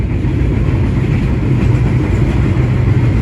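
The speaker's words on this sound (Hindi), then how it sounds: "शुक्र है हमारी ट्रेन नहीं रुकी।" Passenger train running along the tracks in Pakistan, heard from inside: a loud, steady low rumble of wheels and carriages, continuous and close, with no voices.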